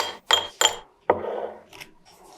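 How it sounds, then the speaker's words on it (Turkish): Ice cubes dropped into a glass coated inside with dark chocolate sauce while assembling a layered dessert: two sharp, bright clinks in quick succession, then a heavier clatter that rings and fades, close and alone. "Buz küplerini koyun."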